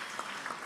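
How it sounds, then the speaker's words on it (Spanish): A church congregation applauds in a steady, dense patter of many hands, faint and even throughout, with no voices standing out. "Un aplauso al Señor."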